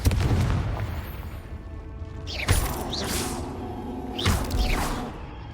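Confringo blasting spells going off in the video game Hogwarts Legacy: two sharp booming blasts, each with a rising whoosh, land about two seconds apart over a steady rumbling game background.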